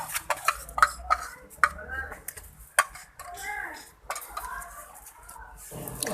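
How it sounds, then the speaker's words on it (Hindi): Gram flour (besan) being mixed into a litre of buttermilk (lassi) in a metal pot for a village-style curry: repeated clinks and scrapes of a spoon against the vessel, with a voice talking over and between the strokes. "बेसन डाल के इसको अच्छी तरह हल करेंगे। बेसन को लस्सी में अच्छी तरह मिक्स कर लेना है।"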